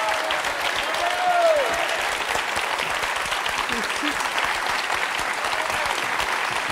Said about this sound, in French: Félicitations, le public vous applaudit.